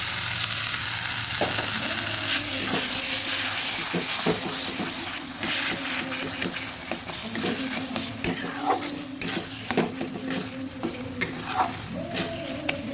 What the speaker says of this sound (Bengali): ভালোভাবে নেড়ে মিশিয়ে দিচ্ছি টমেটো আর ডিমটা খুব ভালোভাবে ভেজে নিয়েছি